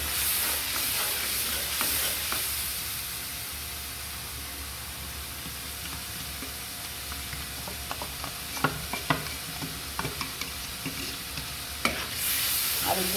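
Chili, nut paste, onion paste and garam masala frying together in a pan for morog polao, a steady sizzle with occasional scraping stirs growing busier toward the end, alone without talk.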